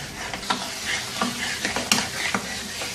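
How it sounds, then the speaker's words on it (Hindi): Lamb karahi with tomatoes being stirred over high heat, a spoon scraping and clacking against the pan every half second or so over a steady close sizzle of frying. "और अब इसको अच्छी तरह से मिक्स करना है कि ये जो टमाटर हैं ये इसमें घुल जाएं।"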